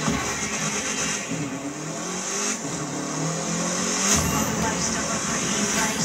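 A car engine in the racing video game The Crew 2 revs and surges with nitro boost in a loud, continuous racing roar with shifting pitch, with someone talking over it.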